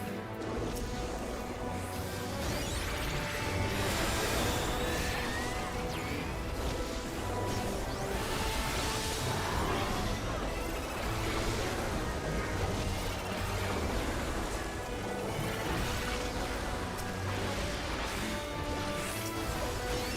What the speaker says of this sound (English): That noise is the shield break noise